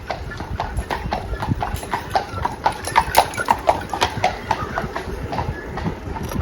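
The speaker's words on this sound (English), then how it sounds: "Take a horse-drawn carriage tour too when you're here." Horse hooves from a carriage clip-clop steadily on pavement on Mackinac Island. The quick, even rhythm sits at moderate distance above a continuous background of outdoor noise.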